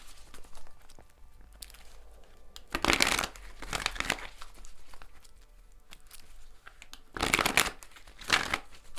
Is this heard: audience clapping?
no